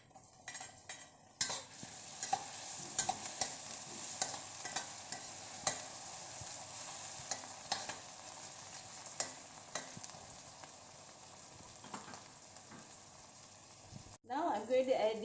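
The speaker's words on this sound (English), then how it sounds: "we will saute the onion first. Now I will add in the tomato." Onion and tomato sautéing in a pan, with quiet frying hiss and repeated utensil scrapes and taps across a long stretch, close but faint, with a voice speaking over it.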